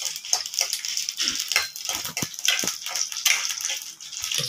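Green chilies, dried red chilies and a Kashmiri chili sautéed lightly in a pan for kara chutney, a soft steady sizzle with scattered clinks and scrapes of a spoon stirring against the metal.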